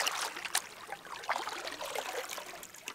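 Creek water flows and trickles around a canoe on a trout stream, a close, continuous babbling with small splashes and gurgles, heard alone without voices.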